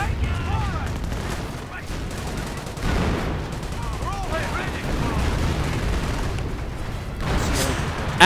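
Artillery fire in a wartime strategy game: repeated dull booms and bursts of gunfire rolling over a noisy battlefield, loud and continuous with several heavier impacts.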